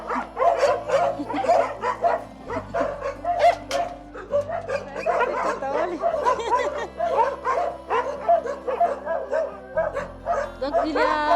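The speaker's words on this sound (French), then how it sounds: "Ici, les chiens." Several dogs at a rescue refuge in Madagascar bark and yip in a rapid, overlapping chorus close by, with a few whimpers mixed in and steady barking throughout.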